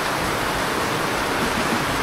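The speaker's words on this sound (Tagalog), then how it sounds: "Sobrang lakas na ulan guys." Heavy rain pours steadily during a trip home after a boat tour in El Nido, a dense, loud, unbroken hiss of water falling on surfaces with no voices over it.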